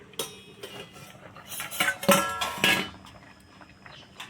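A metal lid lifted off a pot of potatoes boiling in salted water, with scattered clinks and clattering of cookware close by, louder in the middle and then fading, no one speaking.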